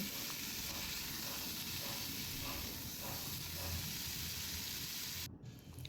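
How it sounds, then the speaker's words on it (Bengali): Potatoes and cauliflower fry in a wok, a constant close hiss and sizzle that runs unbroken before dropping away sharply near the end. "আলু কষানো হয়ে যেতে আমি ফুলকপিটা দিয়ে দিলাম, এটাও আলুর সাথে ভালোভাবে কষে নেব।"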